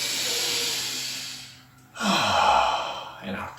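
A deep breath is drawn in during a stretching exercise. It comes as a long, airy inhale close to the mic, then after a brief pause a second breathy push follows, rough and full.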